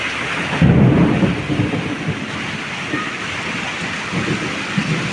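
Steady rain pours down while low thunder rumbles early on and again later, a dense wash of sound without talking.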